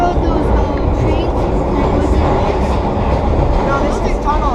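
A vintage NYC subway nostalgia train runs through a tunnel on the old V route, a loud, dense rumble and roar with rattling wheels, while passengers talk over it.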